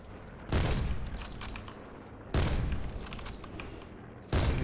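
Gunfire in Call of Duty: Black Ops 4 comes as three loud bursts of shots at intervals, each followed by ringing decay over a steady background of noise.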